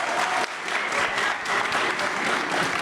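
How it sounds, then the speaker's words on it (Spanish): An audience in a university hall in Colombia applauds the former president Uribe, a steady dense clapping that fills the room from start to finish without a break. "¿le están aplaudiendo a Uribe o no?"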